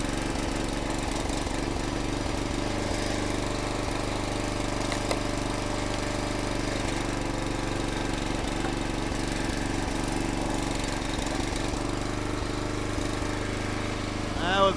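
A small motor on a firewood log splitter runs continuously at a steady, uneven drone through the whole stretch, sounding rough and not running right, with no talk over it.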